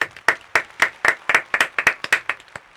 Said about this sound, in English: So round of applause for Corey.